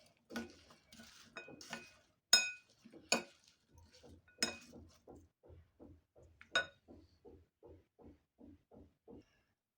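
A spoon stirs fruit chaat in a bowl with a steady run of light clinks and scrapes, about a dozen rhythmic taps, close and fairly soft, with a few sharper rings among them.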